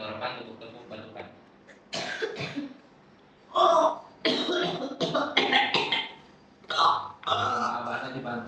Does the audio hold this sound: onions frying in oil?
no